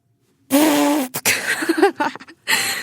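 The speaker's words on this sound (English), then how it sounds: "reprised my raspberry burp" A raspberry burp made with the mouth, a single loud buzzing blurt of about half a second followed by a short run of sputtering, gurgling bursts and a final rasping blast, close and alone.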